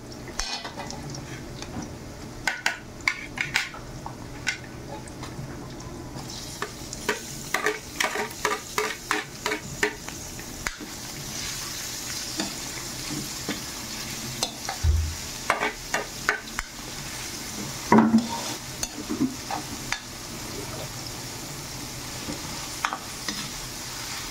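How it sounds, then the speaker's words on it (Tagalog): Shredded chicken breast is tossed with cooked aromatics in a hot pan as a pancit sotanghon guisado is being made, with a soft steady sizzle under repeated scraping and clinking of a spatula against the pan. "Nung luto na po yung mga aromatics natin, lagay na natin itong ating hinimay na chicken breast."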